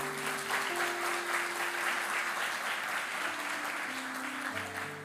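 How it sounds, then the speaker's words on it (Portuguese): Congregation applauding the Lord during a church service, a steady wash of many hands clapping throughout, moderately distant, with a sustained organ or keyboard chord held underneath. "Você pode aplaudir ao Senhor pela palavra?"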